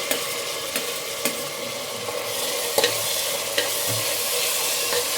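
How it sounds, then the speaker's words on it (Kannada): Chopped tomatoes fry for a chicken dum biryani masala, giving a steady close sizzle with several sharp scrapes of a spatula stirring the pan, and no voices. "ಈ ಟೊಮೆಟೊ ಎಲ್ಲ ಚೆನ್ನಾಗಿ ಸಾಫ್ಟ್ ಆಗಬೇಕು, ಅಲ್ಲಿವರೆಗೂ ಫ್ರೈ ಮಾಡ್ಕೊಳ್ಳಿ"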